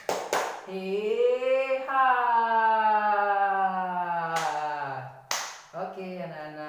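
Elementary school pupils in a science class perform the tepuk semangat clap pattern: a few sharp, loud group claps punctuate sustained, loud voices chanting in unison.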